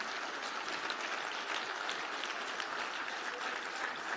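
Conference audience applauding year-round volunteer staff at a closing session, steady dense clapping from a large crowd throughout, fairly distant and even in level with no pauses.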